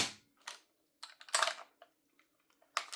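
VFC MP5K Gen 2 gas blowback airsoft gun firing on semi-auto indoors, a handful of sharp, snappy cracks spaced irregularly, close and crisp against a quiet background.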